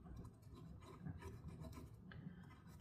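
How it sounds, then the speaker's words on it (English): Old thermal paste being scraped out of the CPU heatsink grooves of a 2019 27-inch iMac with a hand tool, a quiet, continuous rasping and rubbing with uneven strokes, close up and without talk. "Now we got to get all this gunk out of the heatsink here"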